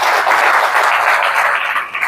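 Seminar audience at a training session claps in a continuous, fairly loud burst, hands patting at a brisk, even pace throughout with no speech on top.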